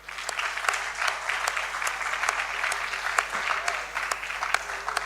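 An audience at an inter-school debate keeps up steady applause as the Accra Academy and St. Mary's teams come to the stage, with individual claps standing out and faint crowd murmur underneath.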